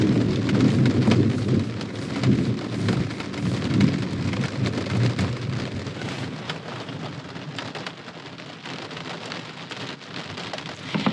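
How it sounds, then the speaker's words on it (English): Heavy rain drums steadily on a camper roof during a hailstorm in the Black Hills, with deep rolling thunder rumbling underneath, loudest early and easing slightly over time. "It is so beautiful, but man, it is raining."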